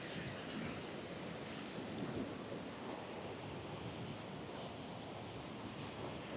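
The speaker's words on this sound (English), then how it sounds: "suits the flow of the river at the moment." Faint, steady rushing of the river at Glenkeen Waterfall in the Slieve Bloom Mountains, a continuous broadband wash of flowing water heard from a distance, with no talking.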